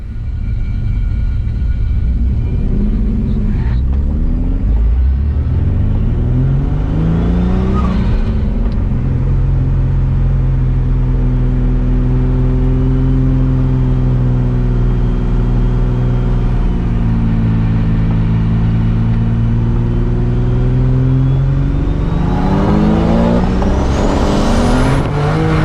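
A V6 turbo Ecojet accelerates hard at full boost during a roll racing event in Perth, its loud, continuous engine roar rising and falling in pitch as it pulls through gears, with no talk over it.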